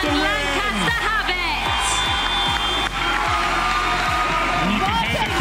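A packed basketball crowd in the stands roars and cheers continuously, dense shouting and whooping layered over rhythmic stomping thuds, with a commentator's voice audible underneath.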